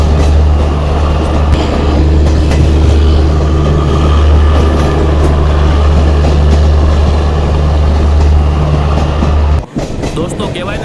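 The 22959 Intercity Superfast Express runs non-stop past a station near Ahmedabad, its loud, steady wheel-and-carriage rumble droning throughout with a brief dip near the end.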